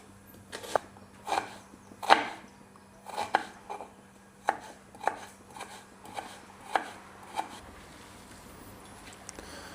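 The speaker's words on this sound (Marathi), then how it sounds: "त्याच्यासाठी एवढे सगळे कांदे कापणार आहे आपण" A knife chops onions on a board in about a dozen separate, uneven strokes, crisp and close, with quiet gaps between them.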